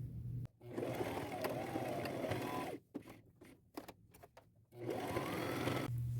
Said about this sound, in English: Now I'm done sewing